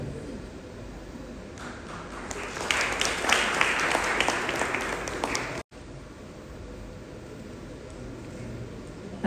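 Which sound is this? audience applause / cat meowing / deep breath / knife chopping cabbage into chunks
audience applause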